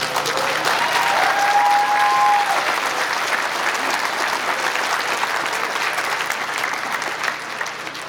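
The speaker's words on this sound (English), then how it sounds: "Please give yourselves a huge round of applause" Commencement graduates at Navajo Technical College applaud themselves in a large, dense round of clapping that stays loud and sustained, then eases slightly toward the end.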